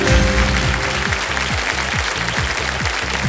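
Studio audience on the KBC quiz show applauds loudly and continuously, a thick roar of clapping over pulsing low musical tones.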